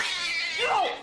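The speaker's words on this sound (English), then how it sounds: "The angry, hissing animal descends upon her within seconds." An angry house cat hisses and yowls as it attacks a woman's purse, a loud, harsh, breathy hiss that rises into a brief wailing cry near the end.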